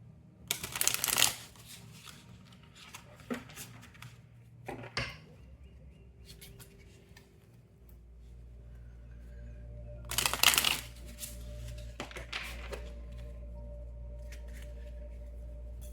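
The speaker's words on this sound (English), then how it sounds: "let me shuffle it now" Large tarot cards are shuffled by hand in two brisk riffling bursts, with faint handling and tapping in between, against a quiet room hum.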